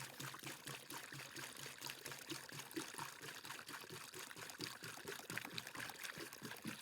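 Water from a hose or container pours steadily onto the soil around a newly planted tree, ten litres mixed with a black seaweed and fish tree tonic, making a continuous trickling, splashing wash at close range with no talk.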